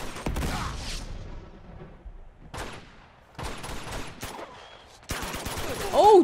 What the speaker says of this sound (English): I feel like I'm getting shot at from places I'm not supposed to be getting shot at from.